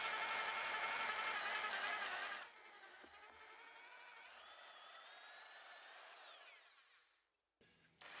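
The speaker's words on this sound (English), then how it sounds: "Time to drill out the dowel holes with an 18mm auger bit." An SDS drill bores dowel holes into timber frame wood with an 18mm auger bit, a loud whining grind that drops to a quieter rising whine, then a brief stop and restart.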